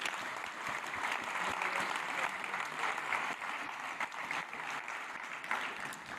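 An audience at a Frankfurt School event applauds, a dense, continuous wash of many hands clapping, fairly faint and steady throughout.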